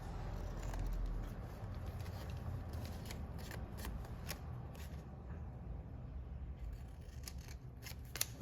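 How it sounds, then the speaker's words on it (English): Scissors trimming paper for a Gelli print stepper box craft, a run of close, soft snipping and rustling cuts repeating over several seconds with no one talking. "Just trim a little of that off so I know it's going to get"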